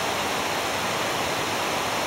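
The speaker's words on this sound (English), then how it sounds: "And this is a gorge with wonderful waterfalls" Waterfalls cascade through a gorge at Watersmeet near Lynmouth in North Devon, a dense, steady roar of rushing water that stays at an even loudness throughout.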